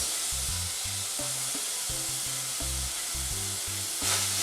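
Figs sizzle in a hot pot with a steady, close, even hiss that holds throughout and swells slightly near the end, over a low repeating tonal hum.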